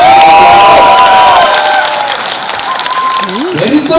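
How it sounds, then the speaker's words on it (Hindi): Audience at a stage event applauding loudly, a dense burst of clapping and cheering that gradually thins out, with voices and a rising shout from the crowd near the end. "उनके लिए जोरदार तालियां"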